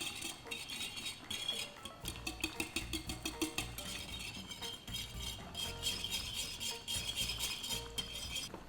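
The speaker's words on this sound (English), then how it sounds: "I am going to use a whisk" A whisk beats ricotta with starchy pasta cooking water in a bowl, giving a fast, steady run of light metallic clicks and scrapes, close and alone.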